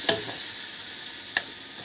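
Aloo gobi frying gently in a pan over very low heat gives a soft, steady sizzle, with two sharp utensil clinks against the pan as it is stirred.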